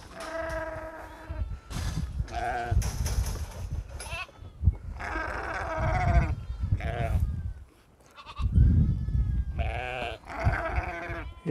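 Goats in a farm pen in Saudi Arabia bleating repeatedly, several overlapping loud calls near and far, with mothers answering across the pen and brief pauses between bursts.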